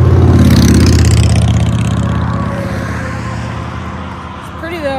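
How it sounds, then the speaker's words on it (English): A loud car engine rumbles close by on a roadside along the Appalachian Trail in Virginia, its deep throb fading slowly as it passes, while a hiker speaks over the noise. "This car is so loud."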